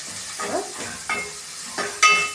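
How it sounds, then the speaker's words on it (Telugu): A spoon scrapes and stirs masala in a pan while cooking chicken curry, four or five distinct strokes over a soft steady sizzle, the last one sharper and metallic. "మంచి కలుపుకుంటున్నా పచ్చివాసన పోయేదాకా"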